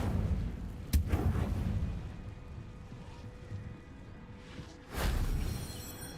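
Incendio fire spell cast in Hogwarts Legacy: a sharp burst near the start followed by a whooshing rush, then a second heavy blast toward the end over a low rumbling game backdrop.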